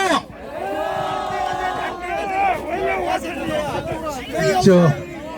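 Elderly protesters at a street rally outside Tapgol Park in Seoul raise a loud, sustained cheer, many overlapping shouting voices that swell toward the end.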